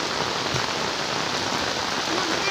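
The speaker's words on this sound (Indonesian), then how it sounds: "Ini hujan masih deras." Heavy rain pouring steadily onto a surface during flooding in eastern Cirebon, a dense unbroken hiss with no voices, loud and close throughout.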